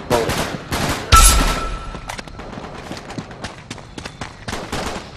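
Gunfire in a multiplayer shooter, Uncharted 3 team deathmatch: a loud burst of shots near the start, then scattered rapid cracks and pops continuing through, with no voices.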